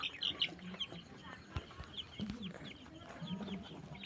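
A coloured broiler chicken, about 27 days old, clucks in short bursts on a poultry farm, fairly faint against soft background noise and scattered movement.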